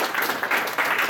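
An audience at an anime convention game show claps and applauds, a dense steady patter of many hands, fairly loud and close.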